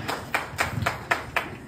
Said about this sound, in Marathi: सर सर जोरदार टाळ्या